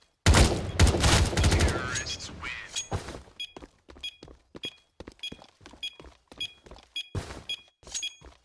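Video game gunfire from an AUG rifle during a competitive esports match, a dense burst of rapid shots at the start, then sparse sharp cracks and thuds spaced through the rest, with a caster's voice heard over it.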